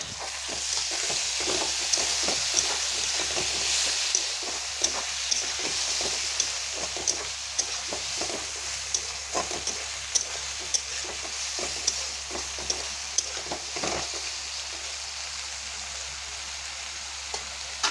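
Ginger, garlic and onion paste frying in a pan with browned onions, a steady crackling sizzle broken by repeated scraping stirs, close and continuous with no talk.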